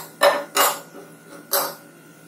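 Metal utensil clinks against a small kadai as cashews and almonds go into hot ghee, with three sharp, close knocks and scrapes in quick, uneven succession.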